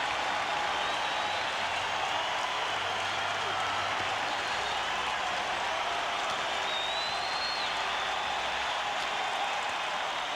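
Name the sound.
hockey crowd cheering after Bruins goal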